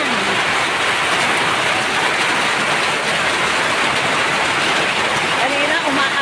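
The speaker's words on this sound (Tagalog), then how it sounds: "Ayan, biglang umulan." Sudden rain pours down in a dense, even hiss that stays steady from start to finish, with brief faint voices at the edges.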